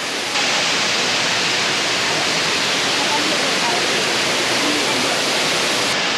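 Chunu Waterfall in Taiwan's Manyueyuan national forest rushes in a loud, steady roar of broadband water noise that stays constant throughout.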